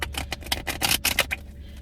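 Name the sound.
tarot cards being shuffled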